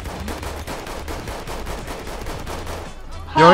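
Rapid automatic gunfire in the video game Battlefield 1 rattles in a fast continuous burst for about three seconds, loud and close, before cutting to a brief burst of another sound at the end.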